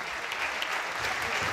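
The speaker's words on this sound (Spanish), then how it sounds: "Fuerte, pero fuerte el aplauso." A short, dense burst of audience clapping at a dance and music show, steady and moderately distant, lasting under two seconds.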